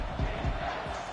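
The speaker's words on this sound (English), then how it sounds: "if you didn't know this was a big play, the crowd is telling you" A roaring stadium crowd at a Texas Tech football game swells as a big third-down play unfolds, the broad wash of cheering steady and loud throughout a brief moment.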